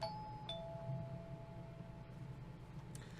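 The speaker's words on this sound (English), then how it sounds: "And then the doorbell rang again." A doorbell rings in the horror video game Corpse Party: Blood Drive, a quiet two-tone chime struck twice in quick succession, its tones lingering over a low ambient hum.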